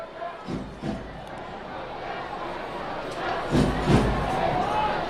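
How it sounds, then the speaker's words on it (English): A football stadium crowd at a Greenville FC versus Chattanooga FC match roars and shouts in protest at a physical foul, loud swelling bursts rising twice over a continuous crowd din, with a commentator's voice in places. "Crowd trying to get the referee to get the cards out"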